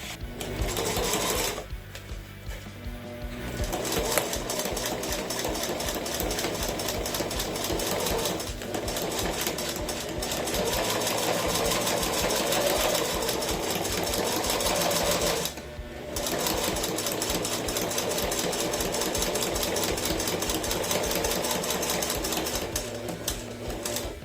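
A sewing machine hems the short ends of a cork fabric collar piece for a stem bag, running in steady, close mechanical bursts with a couple of brief pauses.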